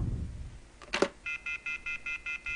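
A run of evenly spaced telephone beeps, the repeating busy tone of a call that has been cut off, clear and steady after a short burst of handling noise.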